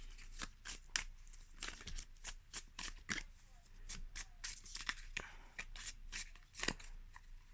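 Tarot de Marseille cards being shuffled by hand, a run of crisp riffling and flicking bursts with short pauses, close and fairly quiet, with faint voice in the background.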